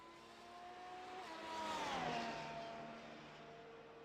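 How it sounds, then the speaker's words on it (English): A Formula 1 car in a sim racing game at a Dutch Grand Prix, running off the track, its high-pitched engine whine rising and falling through a gear shift, faint and swelling briefly louder, with no voices. "Not very often you get to see an F1 car go off-roading."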